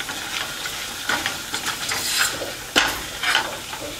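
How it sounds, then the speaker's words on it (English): Whisk scraping through a garlic and flour roux in a pan, a close sizzling hiss broken by brisk scraping strokes and a sharp clack near the middle, with no talking. "You have to constantly stir that up so you don't stick or burn the garlic and the flour."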